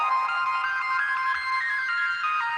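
A designed synthesizer lead plays a bright, sustained, tone-like line with gently shifting pitch, steady and clear with nothing else behind it.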